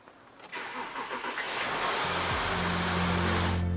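Car engine starting after an oil change in a service bay, a whirring crank building quickly into a loud, steady running engine with a rising hum.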